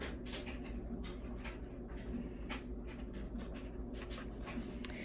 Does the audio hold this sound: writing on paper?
yes